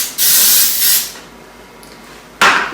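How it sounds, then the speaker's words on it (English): Cooking spray hisses into a 3-quart mixing bowl in two close, loud bursts, followed by a quieter gap and then a third short spray. "I'm going to take a 3-quart cooking bowl and spray it with cooking spray"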